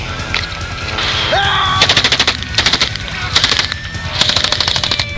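Rapid bursts of automatic rifle fire, including a Romanian SAR-1 from Century Arms International, crack out in several fast rattling volleys separated by brief pauses, loud and close, with a faint voice in the background.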